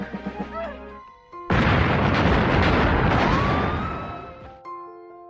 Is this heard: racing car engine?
no